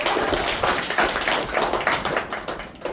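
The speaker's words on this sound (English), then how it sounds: "Give yourself a round of applause." A small-town evening audience in Challis, Idaho, breaks into brisk, close clapping that holds steady throughout.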